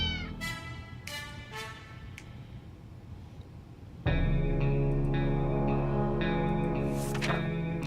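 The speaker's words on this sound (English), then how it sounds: "the bag started to violently shake, emitting a screeching, hellish sound" A cat screeches inside a shaken bag in the 60 Seconds video game, a run of harsh, warbling cries with effects. Quieter tonal sounds come first, and a loud sustained screech starts midway and holds to the end.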